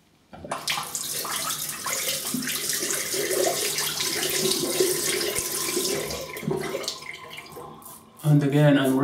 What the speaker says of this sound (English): And again, I'm rinsing with cold water.